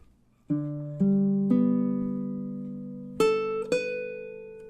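Baritone ukulele playing measure 4 of a song, with five plucked notes and chords struck in slow time, each ringing and fading close and clear, no voices.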